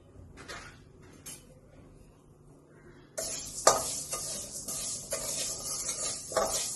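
Small seeds rattle and scrape as they are stirred in a dry pan. The quiet stirring grows louder and busier partway through.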